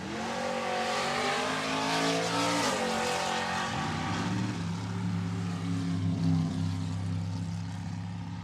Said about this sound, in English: Leroy Goldstein in the Dragster is going to be doing the chasing with a 520 dial in